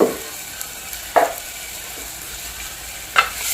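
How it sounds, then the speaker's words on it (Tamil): Crushed onion and ginger fry in a pan for a Tamil kuzhambu, a soft steady sizzle broken by a few sharp scraping stirs, close up and with no voices. "தட்டி வச்ச வெங்காயம் போட்டுக்கலாம் அதுக்கப்புறம் வந்துட்டு தட்டி வச்ச இஞ்சி கொண்டு வச்சு"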